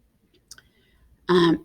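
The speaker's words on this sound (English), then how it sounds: "So again, I'm going to double click." A computer mouse clicked, one faint tick followed a moment later by a louder, brief electronic-sounding click, both close and isolated in near silence.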